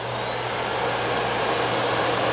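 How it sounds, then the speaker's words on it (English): A Miele C3 vacuum cleaner runs steadily with a fresh, nearly empty bag, producing a continuous broadband whoosh with a low hum beneath, loud and close throughout. "When I turn the vacuum on,"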